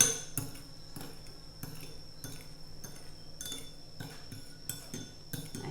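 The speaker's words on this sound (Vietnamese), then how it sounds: "Bây giờ mình trộn lên cho nó đều." Spoon clinking against a bowl while mixing a Vietnamese fish sauce and lime juice dressing for beef shank and onion salad, a steady series of light, close taps and scrapes.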